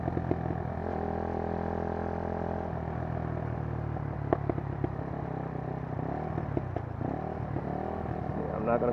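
A Kymco scooter fitted with a K-Pipe exhaust hums along close by at a steady cruise, a low buzzing drone with faint clatter and a slight rise near the end, heard under nearby talk.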